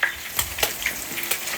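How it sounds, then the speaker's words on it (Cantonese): River fish fry in a wok, giving a steady close sizzle of hot oil broken by a few sharp crackles and stirring scrapes. "我哋今日炸啲魚"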